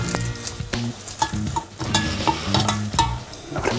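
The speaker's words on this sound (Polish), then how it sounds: "Smaż kilka minut, aż cebula stanie się złota." Onion frying in a pan while being stirred, with loud sizzling and repeated scraping strokes of the utensil in an uneven rhythm, close by with no talk.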